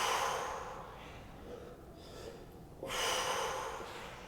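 Audible breathing during a bodyweight workout stretch, a long airy exhale fading out, then after a brief pause a second strong breath, close to the microphone with no talk.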